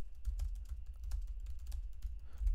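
Steady, rapid keystrokes on a computer keyboard, a close and quiet run of light clicks over a low background hum with no talking.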